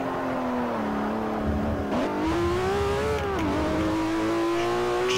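The Ferrari 599 GTO engine in Forza Motosport 4 revs hard and steadily, its pitch rising and dipping through the gear changes, loud and close with no talk over it.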